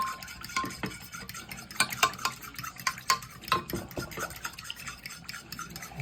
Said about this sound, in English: Add them together, stir them up.